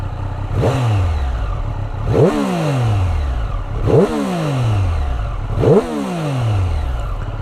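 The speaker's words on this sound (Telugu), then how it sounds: "ఈ బైక్ నేను ఇప్పుడు స్టార్ట్ చేస్తాను" A 2023 Triumph Street Triple RS motorcycle engine revs in four sharp, evenly spaced throttle blips, each rising and falling back to a steady idle, close and loud with no talk.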